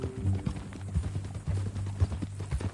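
Horse hooves clip-clopping in Red Dead Redemption 2, a steady, close rhythm of hoofbeats running through the whole stretch with low game ambience underneath.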